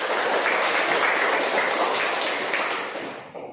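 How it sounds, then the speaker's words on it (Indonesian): Applause from a classroom of students after the teacher's call, a dense steady patter of many hands that holds strong and then tapers off near the end. "Tepuk tangan untuk kita."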